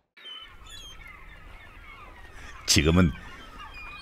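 A seagull at the sea off Wolmido lets out one loud, harsh squawk over a faint, steady outdoor hum, and a person speaks briefly nearby.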